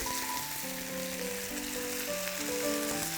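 Chicken breast simmers in soy sauce, oyster sauce, sugar and a little water in a covered pan, a steady soft sizzle running throughout while unrelated background music plays over it.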